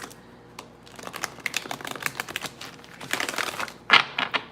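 Tarot cards being shuffled in a spirit-reading session, heard as a run of crisp, rapid riffling clicks and flicks that grow denser toward the end, close and fairly quiet, with no voices.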